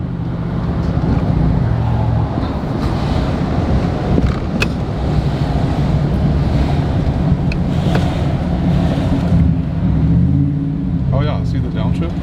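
A Ford Mustang GT350 engine drones steadily and loudly from inside the moving car, its low rumble shifting in pitch near the end as it downshifts, with wind and road noise throughout.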